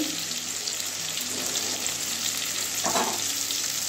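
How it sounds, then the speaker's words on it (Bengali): Pointed gourd (potol) fries in oil with a steady, close sizzle and crackle throughout, joined by a brief scrape or stir near the end. "এই যে লাল লাল করে ভেজে নিয়েছি, যেমন তরকারি করার সময় ভাজি সেইভাবে ভেজে নিয়েছি।"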